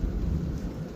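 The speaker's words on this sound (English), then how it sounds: "There's the rain." Evening rainstorm in a garden yard, heavy steady rain hissing on surfaces with deep rumbling thunder underneath, fairly loud and continuous, with no talk.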